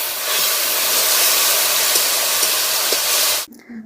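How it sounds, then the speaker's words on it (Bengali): Small splash of water poured onto frying spices and Kashmiri chilli powder in a hot pan, bursting into a loud, steady steam-laden sizzle that hisses continuously for several seconds before cutting off abruptly. "মশলাটি পুড়ে যাবে, তাই আমি অল্প পরিমাণ জল দিয়ে দিচ্ছি।"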